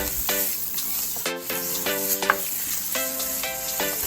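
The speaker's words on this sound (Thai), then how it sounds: "ใส่หมูสับลงไปเลยค่ะ แล้วก็ผัดหมูสับให้สุกเลยค่ะ" Minced pork stir-fried with garlic in a hot pan for a tofu dish, a steady close sizzle broken by repeated scraping strokes of a spatula, with no talking.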